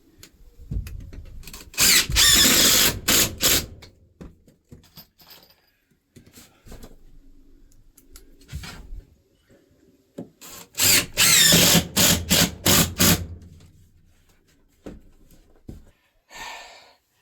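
Power drill driving screws into a raised plywood floor inside a van conversion, two loud bursts of whirring a few seconds each, separated by quieter handling knocks and shuffling.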